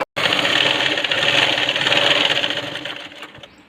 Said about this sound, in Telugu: టూ సైడ్స్ ఇప్పుడు స్టిచ్చింగ్ చేసుకున్నాం కదా